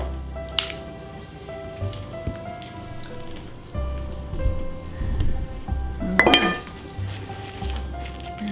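A pudding bowl is set on a rack in a saucepan in a home kitchen, giving a few scattered clinks and soft knocks, then a louder clatter of metal and china near the end.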